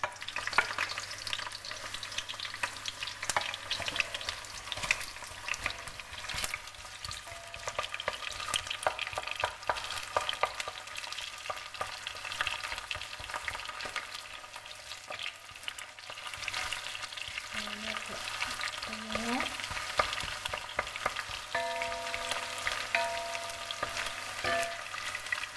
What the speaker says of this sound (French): Voilà, donc notre huile à chauffer. Nous allons mettre nos oignons.